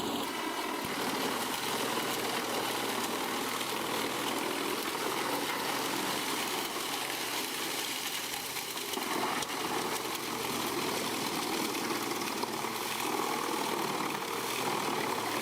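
Dry plant crusher wood chipper running with precision blades and motor, a steady loud broadband roar of machinery that holds evenly throughout, with no pauses.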